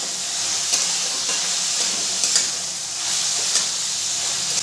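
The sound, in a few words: stir-frying vegetables for chire pulao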